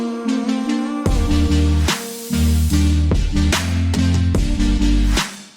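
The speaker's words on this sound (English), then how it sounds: "Maybe a supersaw that sounds like this" A supersaw synth patch built in Serum for future pop plays bright, wide, buzzy chords with a thick bass under them, in rhythmic stabs and sustained hits over about five seconds, loud and up front.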